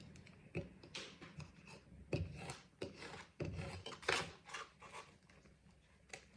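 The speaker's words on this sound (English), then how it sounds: "And then you just rub it down, generally in one direction." A fingertip or cloth rubs down a sticker on a gift surface in one direction, soft close scuffing strokes in an irregular series, quiet and without talk.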